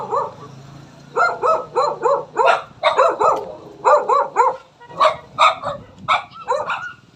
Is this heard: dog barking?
yes